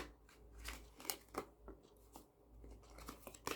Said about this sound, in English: That was my shuffling there.